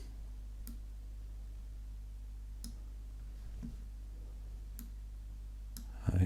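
A computer mouse gives a few faint, sparse clicks over a low steady hum while working in Illustrator.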